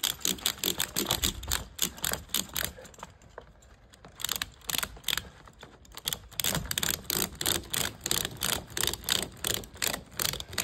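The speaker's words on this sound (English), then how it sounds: "Then we're going to tighten our ratchets." Ratchet straps being cranked tight on a trough pontoon mooring cover, a rapid run of sharp metallic clicks in steady bursts with a short pause midway, close and fairly loud with no talk.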